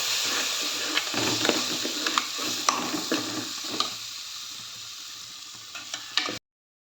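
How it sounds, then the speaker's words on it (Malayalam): Two spoons of coriander powder sautéing in a pan for Kerala-style egg curry, a steady sizzle with scraping stirs and light taps of a spoon, close and fairly loud, quieting toward the end. "പിന്നെ ഒരു രണ്ട് സ്പൂണ് മല്ലിപ്പൊടി ഇട്ട് കൊടുക്കാം എന്നിട്ട് ഇതൊന്ന് നന്നായി വണക്കിയെടുക്കാം"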